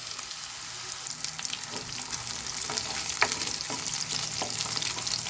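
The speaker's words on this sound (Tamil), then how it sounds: "இப்போ மீதி இருக்கிற சோயாவையும் பொரிச்சு பொரிச்சு எடுத்துடலாம்" Soya chunks deep frying in hot oil give a steady, close crackling sizzle with scattered sharp pops and occasional stirring, continuous throughout with no talking.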